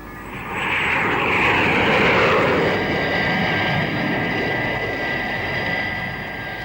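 A propeller airplane engine in flight in a 1964 vintage TV series, with a steady, loud droning hum that swells in and holds throughout, and no talking.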